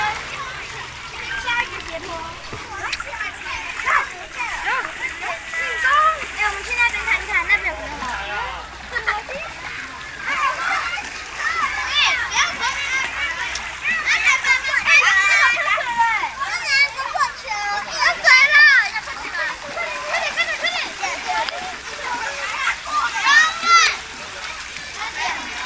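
Water splashing and pouring at an outdoor water park in Xiluo, a steady wet spatter running throughout under the chatter and shouts of young children playing nearby.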